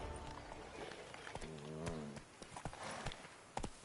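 A horse arrives in the video game The Witcher 3: Blood and Wine, hooves clopping in an uneven run with a short whinny partway through, over background game ambience.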